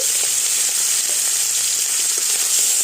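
Shrimp with salt and turmeric frying in hot oil in a pan, a steady bright sizzle throughout with a few soft stirring clicks, close and unaccompanied by talk.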